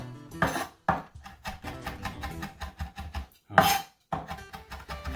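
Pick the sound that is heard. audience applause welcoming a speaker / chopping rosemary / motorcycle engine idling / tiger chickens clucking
chopping rosemary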